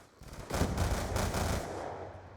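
A Chicom gun with select fire, rapid fire and a reflex sight fires in an online video game, a fast burst of rounds blending into a rumbling roar that then trails off, heard fairly faintly with no talk.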